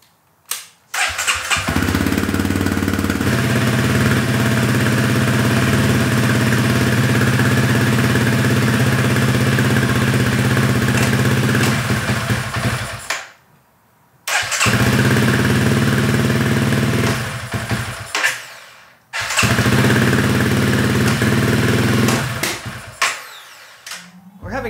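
Honda CRF300L motorcycle fitted with an XR301 big bore kit starts and idles loudly up close, a steady thumping engine drone that cuts out twice and restarts.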